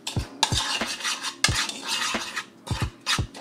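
Seasoning mix stirred in a bowl with a utensil, several bursts of brisk scraping and clinking strokes close by, separated by short pauses, with no talking.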